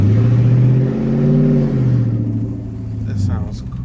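A Lexus SC400 with an aftermarket exhaust revs loudly and close, its deep engine note climbing and falling through a high-RPM pull before settling back toward a rumble.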